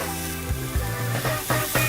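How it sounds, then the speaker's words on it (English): Steak sizzles loudly in a hot pan, a steady crackling hiss with a few utensil scrapes and bumps, close up and with no speech. "I love that sizzling noise. It's so satisfying."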